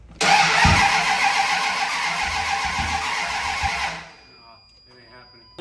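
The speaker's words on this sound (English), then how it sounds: "let's turn the key, see what she does" Truck engine cranking on the key and trying to catch with a misfire, a loud, broad rumbling burst lasting about four seconds with thumping pulses before it cuts off, then faint talking follows.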